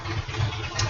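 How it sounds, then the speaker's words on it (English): A low, steady motorcycle engine rumble idles throughout at close range, with a slight hiss on top and no voices. "Excuse the motorcycle noise."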